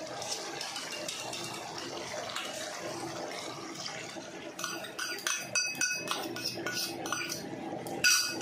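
Water poured into a bowl previously used for mixing curd for a paneer curry, a steady splashing stream followed by clinking of utensils against the bowl, moderately close and fairly quiet.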